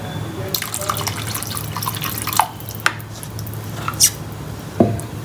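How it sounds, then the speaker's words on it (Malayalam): Water is added to a pan of seer fish (neymeen) curry: a few nearby drips and small splashes land over a low, steady kitchen hum, with no voices. "നമ്മളിപ്പോൾ മീൻ കണക്കായിട്ടുള്ള വെള്ളം ഒഴിച്ച് കൊടുക്കുക"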